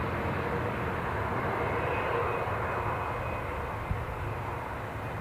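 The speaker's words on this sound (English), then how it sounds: "British Airways 320 that's pushing back" British Airways Airbus A320 jet pushing back at Newcastle airport, a steady distant engine roar and whine holding at a constant level throughout, with no voices.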